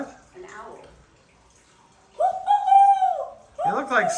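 A voice imitates an owl, giving a drawn-out hooting call after some quiet mumbling, then a second wavering hoot that closes the moment.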